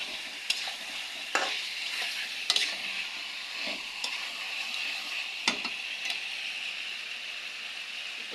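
Fried meat and potatoes sizzle in a pot of cooked-down spices for biryani, a fairly quiet steady frying hiss with occasional sharp scrapes and clicks from stirring.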